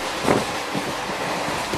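Passenger train rolling south through India toward Goa, a steady broadband rumble with wind noise and faint rhythmic wheel clicks, heard from inside or close by without talk.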